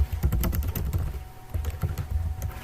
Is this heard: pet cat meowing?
no